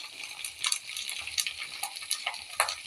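Spices frying in a pan, a steady soft sizzle with scattered bright clicks and scrapes from stirring, close and fairly quiet.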